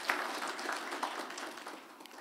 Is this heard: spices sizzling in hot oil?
no